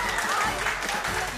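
Applause from a studio audience at a televised quiz show, a steady burst of clapping heard briefly and moderately loud.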